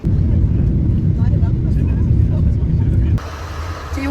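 A passenger airplane descends toward Bologna with a steady, loud low-frequency engine drone inside the cabin. The drone drops abruptly to a quieter hum for the final second.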